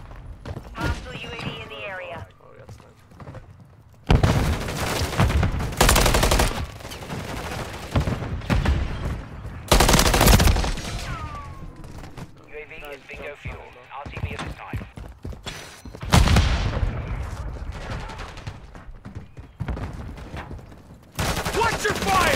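Call of Duty Modern Warfare 3 gunplay with an MCW assault rifle: loud, close bursts of automatic fire come in irregular volleys between quieter gaps, mixed with shouted in-game combat callouts.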